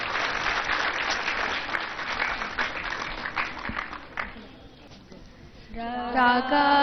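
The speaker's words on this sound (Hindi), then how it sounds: "एक बार जोरदार तालियों से इनका उत्साहवर्धन करिए।" An audience claps loudly for BAMS first-year students at a Vedic Dhanteras ceremony, steady dense applause for about five seconds that thins out, then gives way to a tonal musical sound at the end.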